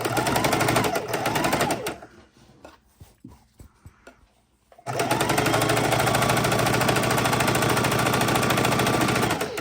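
Sewing machine stitching fabric for a microwave potato bag, a loud, close, rapid mechanical hammering that runs continuously, pauses briefly with a few clicks, then resumes at full speed.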